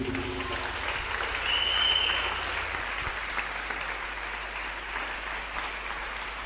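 Church congregation applauding during a worship service, a steady broad wash of clapping that swells slightly then continues evenly throughout, with faint voices mixed in.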